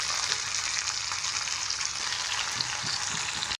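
Tomatoes hitting hot oil with browned onions, cumin, mustard seeds and curry leaves, a steady, close, loud sizzle and crackle of frying that runs unbroken for a few seconds before cutting off abruptly.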